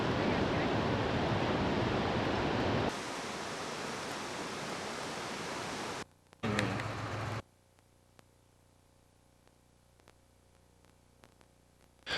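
River water rushing steadily at Eldorado Canyon State Park, a loud broadband roar that drops in level partway through, then gives way to much quieter outdoor ambience with faint clicks.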